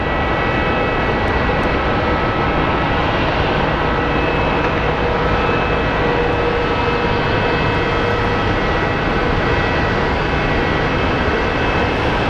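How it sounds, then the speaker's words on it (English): An airliner arriving at Phoenix Sky Harbor airport, its engines producing a loud, constant roar that fills the whole stretch without letup. "There's our flight from Everett that's arriving."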